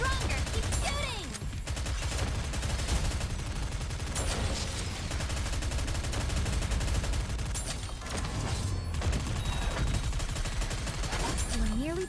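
Dense, continuous gunfire from the video game Honkai Star Rail, rapid volleys layered with game music and effects, loud and steady throughout.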